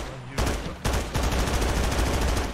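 Rapid automatic gunfire rattles in a shooting video game, dense continuous bursts with a short break, loud and close with no talk over it.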